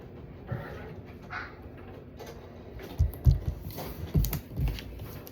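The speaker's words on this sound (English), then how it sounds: "Crazy dogs." Dogs bark in a few sharp bursts over the last couple of seconds, preceded by softer whining and shuffling at moderate distance, with no talking.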